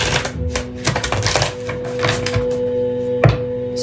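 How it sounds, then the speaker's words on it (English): Builders working outside send a busy clatter of sharp knocks and taps, irregular and fairly loud, over a steady low hum, with one heavier thud near the end. "Sorry, excuse the noise outside. There's some builders."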